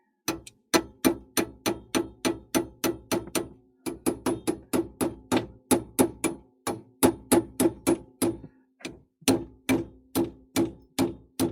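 Rapid, regular light taps of a hammer seat a part during servicing of a gas appliance, dozens of sharp close knocks in quick succession with one brief pause, no talk.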